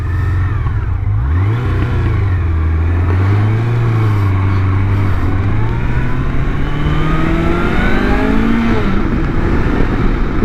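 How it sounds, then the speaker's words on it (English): A Honda CB750 Nighthawk motorcycle engine revs hard and loud, its exhaust note rising and falling through several sweeps as it accelerates, close by with no talking. "Not the best sounding exhaust, honestly, but not embarrassing either"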